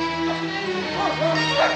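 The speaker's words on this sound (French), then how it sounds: "ça lâche les chiens" Dogs barking and whimpering in a film scene from The Godfather Part II, several yelps and bow-wows rising over a steady low background hum with voices mixed in.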